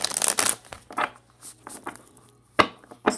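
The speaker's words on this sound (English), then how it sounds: "Here we go with this shuffle again." Tarot cards being shuffled by hand: irregular papery riffles and soft slaps in short bursts, fairly close and crisp, separated by brief pauses, with a faint low hum underneath and no talking.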